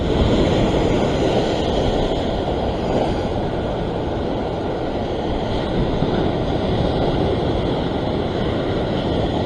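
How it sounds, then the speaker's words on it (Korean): Steady, loud roar of strong surf washing continuously against the shore at a sea fishing spot, with no pauses or voices. "치는 파도 힘이 엄청나기 때문에 그 엄청난 힘을 뚫고 들어가야"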